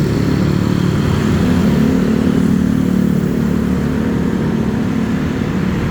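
Busy Bangkok street traffic dominated by motorbikes, with cars, tuk-tuks and SUVs passing: a steady, loud engine roar and drone throughout, with motorcycle revving rising and falling close by.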